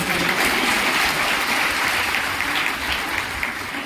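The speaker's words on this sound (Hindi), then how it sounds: "तो तालियां बजा दीजिएगा पहले से।" Audience applause at a free sewing machine giveaway for women: loud, sustained clapping from a crowd, a dense continuous texture that holds steady for several seconds with no voice over it.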